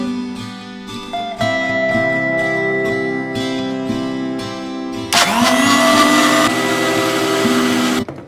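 A mixer grinder blending mango milkshake with ice cream, sugar and milk, a loud close motor whine that starts, shifts pitch as it runs, surges louder midway and cuts off at the end.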